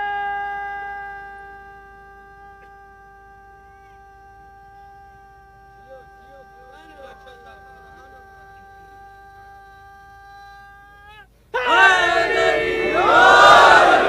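At a majlis gathering, a steady sustained tone hums for several seconds, then a large crowd suddenly bursts into a loud, unified religious chant of call-and-response slogans that fills the last few seconds.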